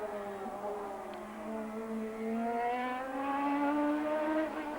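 Race cars in the Indy Car 98 video game, a single engine note whining and climbing steadily in pitch as it accelerates, fairly faint, with no talk over it.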